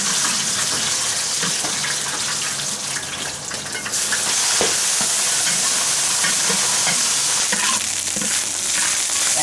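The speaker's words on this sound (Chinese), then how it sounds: "盐菜炒香了，把花椒倒进去" Pickled greens and chili peppers are stir-fried in a wok, giving a constant loud sizzle with scraping and stirring throughout, and no talking.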